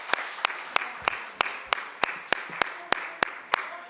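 A sparse, evenly spaced round of clapping at a Cleveland Democracy Day hearing, about a dozen sharp claps in a steady rhythm, close and distinct against a quiet room.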